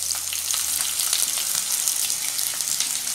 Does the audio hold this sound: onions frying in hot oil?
yes